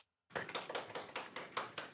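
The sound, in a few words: audience clapping to welcome the speaker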